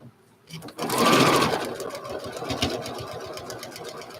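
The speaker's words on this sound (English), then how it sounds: "now I'm going to sew along the line for A7." A domestic sewing machine runs a seam along a marked line, starting after a short quiet moment and then whirring steadily and close with a rapid needle rhythm that gradually eases off.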